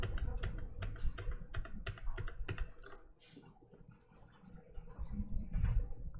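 Close keystrokes clatter on a computer keyboard, a quick run of crisp clicks that pauses briefly before a few more taps and a shortcut key press.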